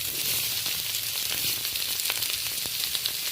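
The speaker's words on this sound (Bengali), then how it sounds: "এই পর্যায়ে আমি পেঁয়াজটা দিয়ে দিচ্ছি।" Onion hitting hot oil already browned with five-spice (panch phoron), giving a steady close sizzle and crackle with a few sharper pops, moderately quiet and without speech.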